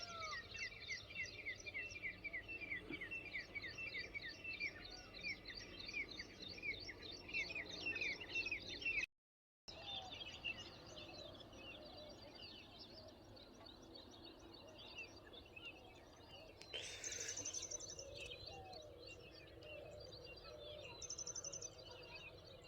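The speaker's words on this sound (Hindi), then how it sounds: "चिड़ियों की ही आवाज आ रही होगी।" Birds chirping in a village coriander field, many small calls and rapid tweets at moderate distance over a soft outdoor hum with faint insects, continuing for a long stretch.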